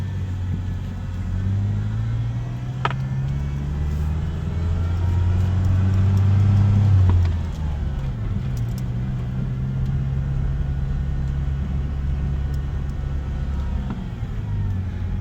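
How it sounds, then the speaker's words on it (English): A 1988 Ford Ranger XLT pickup with the 2.3L four-cylinder engine driving, a steady low engine drone and road rumble with a mild rise in revs midway, heard from inside the cab. "Starts up. And give it a little drive here."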